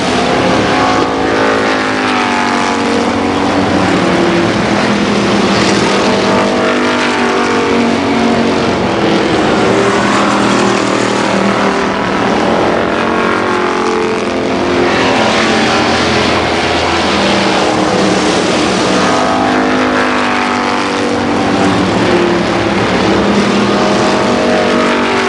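Race cars at Columbus Motor Speedway in 1990, a pack of engines roaring continuously and loudly around the track, with pitch swells as cars pass by.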